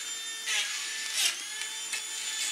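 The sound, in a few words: model railway track cleaning car running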